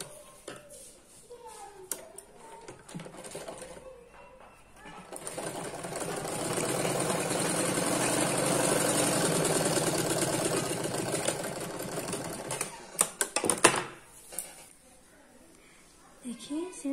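A sewing machine stitching a folded petticoat seam runs in one steady, fast whirring burst of several seconds, framed by someone talking and handling fabric before and after.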